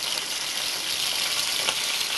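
A steady, bright hiss of cassava frying in hot oil, constant and close, with no voices.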